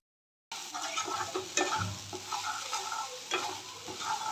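Spices of turmeric, cumin and salt stirred into pieces of fried fish in a hot pan, the spoon scraping in an irregular rhythm over a steady close sizzle, with no voices.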